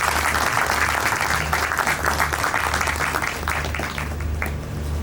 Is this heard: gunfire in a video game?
no